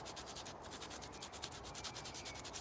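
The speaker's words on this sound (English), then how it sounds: "come with a little bit of sandpaper to roughen up the area" Sandpaper roughening the rubber of a bicycle inner tube around a puncture, giving a quiet, steady rapid rubbing in close, even strokes with no talking.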